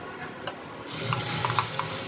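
Ground coriander paste hits frying garlic in a pan, and the sizzle surges into a loud steady hiss. Small pops and crackles break through it.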